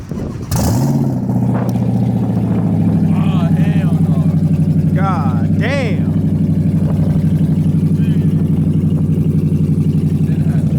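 A Dodge Charger Scat Pack with its catalytic converters cut off fires up and idles with a loud, deep, rumbling drone, steady and close, while people talk over it.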